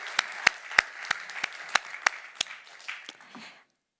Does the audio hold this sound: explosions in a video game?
no